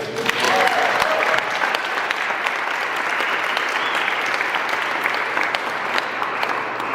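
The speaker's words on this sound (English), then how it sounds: "Let's give them applause." A crowd at a Turning Point event in Montana applauds steadily, a thick, even roar of clapping hands in a large venue that holds for several seconds, with a brief voice near the start.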